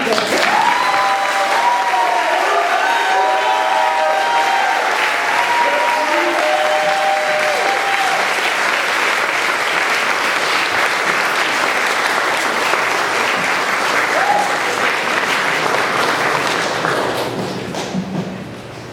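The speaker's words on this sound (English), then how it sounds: "Now it's time to clap." A church congregation applauds at a minister's ordination ceremony: loud, sustained clapping that holds evenly for a long stretch, with some voices calling out at the start, then tapers off near the end.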